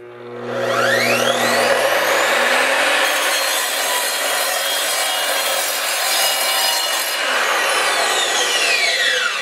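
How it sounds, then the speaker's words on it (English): A 10-inch sliding miter saw with a carbide-tipped blade cuts through engineered decking board: the motor whines up, then a steady loud grinding cut holds for several seconds before the blade spins down. "Next I'll be cutting this engineered material as well."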